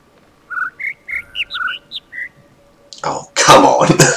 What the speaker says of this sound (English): Hit me, bird noise.